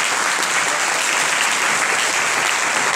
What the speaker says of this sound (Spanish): Un fuerte aplauso, por favor, para Gerardo